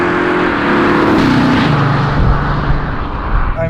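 A 2019 Audi S6 with a V6 diesel engine pulls hard at full throttle, a steady loud engine drone rising in pitch through the gears with road and wind noise, no talk.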